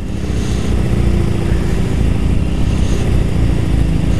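A motorcycle engine running steadily as the bike is ridden out of a grassy field at the Isle of Man, a loud, close, continuous drone with no voices.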